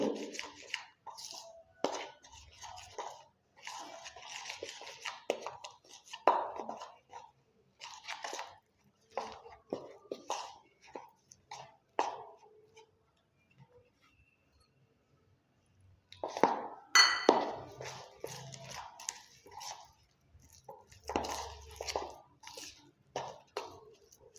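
Henna paste is stirred with tea decoction and beetroot juice, making wet, squelchy scraping sounds in irregular close bursts, with a quiet pause midway and no talking.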